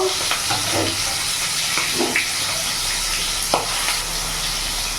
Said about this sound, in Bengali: মাছটা এতটাই ফোটে যে ফোটা ভয়ে আমি ঢাকা দিয়ে দিয়ে ভাজবো